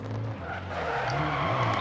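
A rally car in the video game DiRT Rally slides through a handbrake turn, its tires skidding and scrubbing over a steady engine drone, loud and close.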